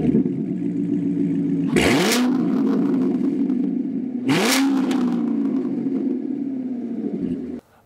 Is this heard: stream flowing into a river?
no